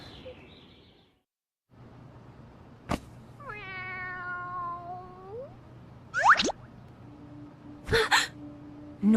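A cartoon cat in an Ultra Street Fighter 4 animation gives a drawn-out, wavering meow, followed by sharper yowls and squeaks after a short silence.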